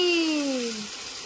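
Water being poured, a steady splashing rush with a gliding tone that falls in pitch as the vessel fills, close and fairly loud and fading slightly toward the end.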